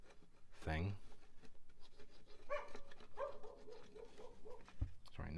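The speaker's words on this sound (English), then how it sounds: "next door's dog is barking" A neighbour's dog barks next door in a short burst of sharp yelps near the start, then quieter whimpering and bark-like sounds recur in the background during a craft session.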